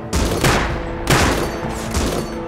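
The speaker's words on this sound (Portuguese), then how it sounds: "É lá de cima ainda que tá atirando" Gunfire in the video game Rust rings out as a rapid volley of sharp, loud shots in quick bursts, close and echoing, with no talking over it.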